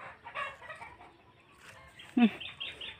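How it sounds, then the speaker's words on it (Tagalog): Hens clucking close by in short bursts, with one louder squawk partway through, over a quiet farmyard background. "Grabe naman tong mga manok natin."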